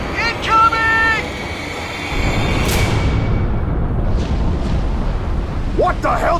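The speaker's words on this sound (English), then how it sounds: "the space elevator finally crumbling after the slip space explosion" In Halo 3, the space elevator collapses after a slipspace explosion: a deep, sustained rumbling blast roars loudly, preceded by brief shouted voice lines and a rising whoosh.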